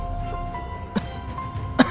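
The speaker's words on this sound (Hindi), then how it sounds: "वो भी प्रदूषण की वजह से खांस रहा था।" A cartoon village head coughing from pollution, two sharp, separate coughs over a quiet background hum.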